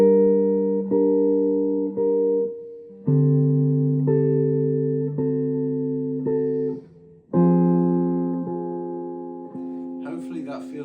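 A guitar strums a slow progression of sustained chords from a theme, each chord ringing out and decaying before the next, close and clear, with a brief noisy scrape at the end.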